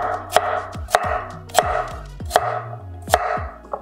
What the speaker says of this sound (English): So for example, I'm chopping up this carrot.